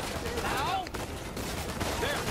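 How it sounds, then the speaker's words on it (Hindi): Gunfire in the video game Uncharted 4 during a prison break sequence: rapid, dense bursts of shots crackling continuously, with a voice talking over the action. "गोलियां मार देते हैं।"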